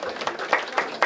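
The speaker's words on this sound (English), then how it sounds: "a round of applause" Audience applause at a public minimum wage event, a brief, moderately quiet patter of clapping from a small crowd with sharp individual claps standing out.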